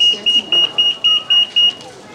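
A home alarm sounds a series of seven short, high electronic beeps in a regular rhythm, while a person speaks faintly in the background.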